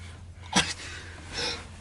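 A single sharp sneeze bursts out mid-conversation, followed a moment later by a breathy exhale, close to the microphone against a faint low hum.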